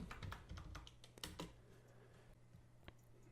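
Quiet typing on a computer keyboard, a short flurry of close clicking keystrokes that thins out to a single tap near the end over a low hum, with no talking.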